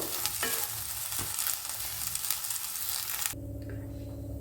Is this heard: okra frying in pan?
yes